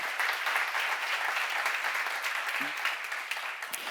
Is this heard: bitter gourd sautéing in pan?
no